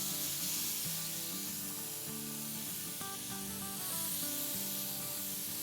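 Marinated chicken for butter chicken karahi sizzles in hot oil in a flat pan over a medium-high flame, a steady bright hiss running unbroken beneath background music.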